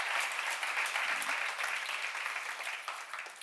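Sustained applause from a church seminar audience, a steady wash of clapping at moderate distance that fades slightly toward the end.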